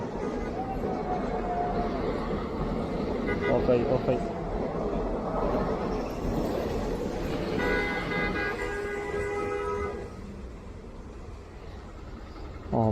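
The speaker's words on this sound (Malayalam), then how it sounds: "അതിനിടയിൽ വീണ്ടും ഒരു ട്രെയിൻ അപ്പോൾ ഇതേത് ട്രെയിനാണ്" A train rumbles past steadily beside a flooded road on New Year's night while its horn toots in drawn-out blasts. People talk over the noise.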